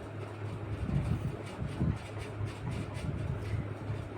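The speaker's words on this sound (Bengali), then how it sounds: "হাওড়া স্টেশনে ঢুকছে ট্রেন" A train rolling into Howrah station gives a continuous low rumble and rattle heard from aboard, steady and moderately loud with faint rhythmic knocks and no speech.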